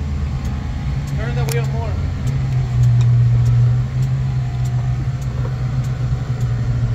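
A 1937 Cord 812 with a supercharged V8 idles steadily while reversing, a low continuous engine rumble that swells briefly in the middle; people talk over it throughout.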